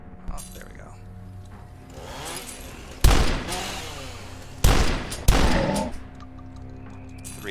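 Several sharp gunshot bursts in a video game shooter, with three loud separate reports standing out over a busy game soundscape and someone talking quietly beneath it.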